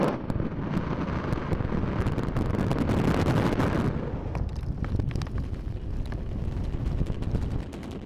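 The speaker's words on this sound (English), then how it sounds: "let you listen to the engine static fire" A SpaceX Super Heavy Booster 21 fires its engines in a static fire test with the water deluge system running, producing a loud, sustained, crackling roar that carries on continuously, buffeted by wind on the microphone.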